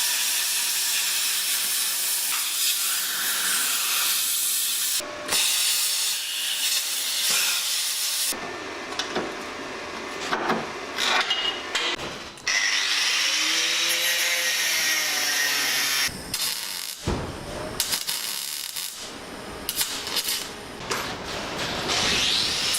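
A power cutting tool grinds through a steel suspension bracket on a Toyota Starlet turbo, a loud harsh hiss and screech that stops and restarts several times over about twenty seconds, close and with no talking.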